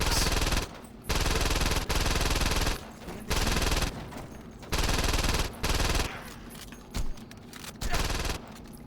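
Rapid bursts of gunfire in the video game Saints Row 2, loud repeated volleys roughly a second long, separated by short gaps, growing more scattered toward the end.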